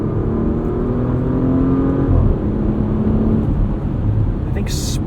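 A 2022 Porsche Macan S V6 engine accelerates through a gear, revs rising and dropping with a shift, heard from inside over steady road roar.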